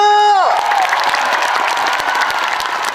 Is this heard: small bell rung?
no